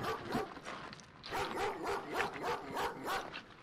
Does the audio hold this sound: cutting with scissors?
no